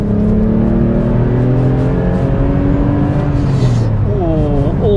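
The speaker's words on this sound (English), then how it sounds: "Let's accelerate uphill." A Porsche 912 accelerates uphill: a loud, close engine drone climbs steadily in pitch and then dips before a short rev rise near the end, with no talk over it.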